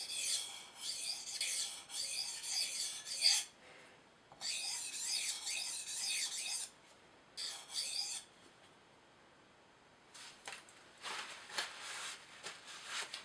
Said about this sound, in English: I'm using extremely light pressure, like barely the weight of the actual blade on the stones